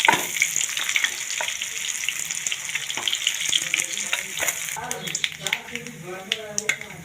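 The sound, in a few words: frying fish in oil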